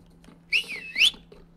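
Whistling to call a horse, two short, sharp high whistles in quick succession, close and clear against a quiet background.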